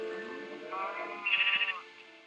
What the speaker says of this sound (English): Sheep, get in, sheep.